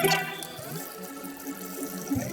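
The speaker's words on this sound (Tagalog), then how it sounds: "Hugasan natin ang manok. Hugasan natin ang maigi." Raw chicken feet being washed under a running kitchen tap, a steady close splashing hiss of water over the meat with small bursts and drips, no voices.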